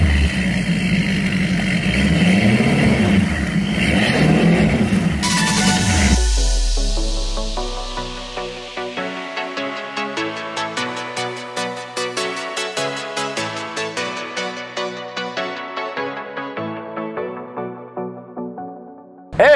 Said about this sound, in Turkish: Evet, teknenin motorlarını çalıştırdık.